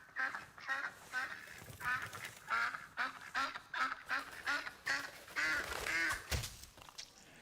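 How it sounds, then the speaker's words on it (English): A duck quacks over and over in a restaurant soundscape recording, making a steady run of rough nasal calls that stay close and fairly loud throughout. "the diners in the restaurant hear the last moments of the duck's life"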